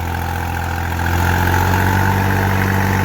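A new tractor's heavy diesel engine idles nearby with a steady low throb and rumble, loud and unbroken for the whole stretch.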